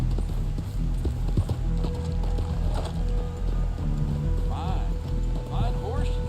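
Horse hooves clip-clop at a steady walking rhythm in the Red Dead Online game world, with voices talking over them throughout.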